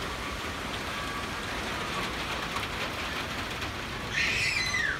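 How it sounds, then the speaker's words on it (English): Heavy rain drumming on a tin roof, a dense steady hiss that stays constant throughout, with a brighter burst of sound near the end. "Do you hear the rain hitting that tin roof?"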